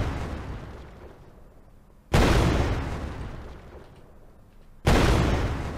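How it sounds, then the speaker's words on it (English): Two sharp explosion effects from an Unreal Engine 5 animation notify, each a sudden loud blast with a long fading tail, spaced a few seconds apart, no talk. "And now the explosion is happening right on Manny's head."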